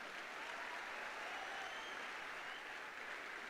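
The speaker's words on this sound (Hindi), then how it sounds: "एक बार मैं चाहूंगा उन शख्स की मतलब जोरदार ताली होनी चाहिए" Applause from an audience at a success testimony event, a steady continuous clapping wash lasting throughout, moderately distant with no voices over it.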